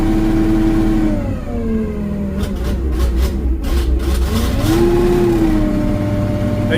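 A fertilizer buggy's carbureted engine runs loudly and close, holding a steady idle, dipping and stumbling through dead spots with some rattling, then revving back up to a higher steady note.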